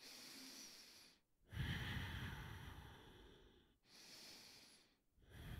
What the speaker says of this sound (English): So let's take those deep breaths in and out. Ujjayi breath.